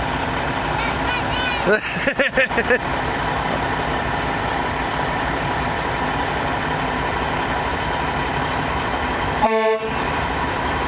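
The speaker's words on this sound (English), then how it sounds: "Horn works." A farm feed truck's horn sounds a quick series of honks and then one more short toot later. The truck's engine idles steadily underneath throughout.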